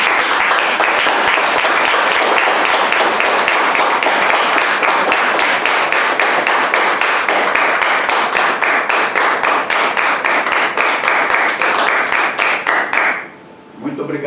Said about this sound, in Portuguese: Eu vou pedir a todos agora uma efusiva salva de palmas para todos